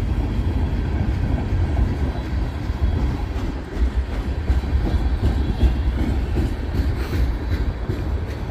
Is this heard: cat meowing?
no